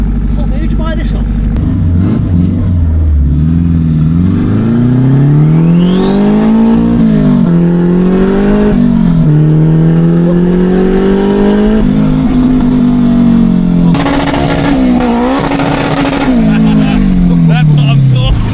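An old-school car with no power steering driven hard up a road, engine repeatedly surging and climbing through revs with gear changes, loud and close, with people talking over it.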